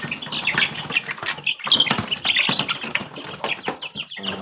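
A flock of month-old Texas chickens in a small backyard, with close wing flapping, scratching and soft clucks mixed with a steady busy rustle, and no talking.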